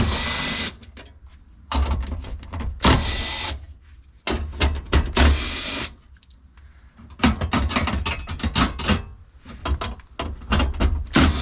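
10mm bolts being backed out of a Toyota Prius hybrid battery cover with a power tool, several loud close bursts of whirring ratchet-like buzzing separated by short pauses.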